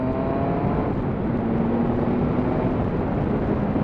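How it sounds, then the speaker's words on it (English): A 2007 Triumph Sprint ST 1000cc motorcycle accelerates under a little throttle, a steady broadband engine roar with a faint rising tone running the whole way, close and fairly loud, with no talking. "was a tiny little bit of throttle, and I mean, it's a 1000cc bike, and it goes, it really goes"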